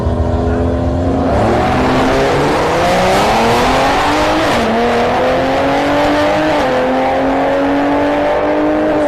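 A Firebird drag car races at a no-prep drag event at Orlando Speed World, its engine roaring loud and close as it accelerates through rising gear pulls, with crowd noise and tire sounds underneath.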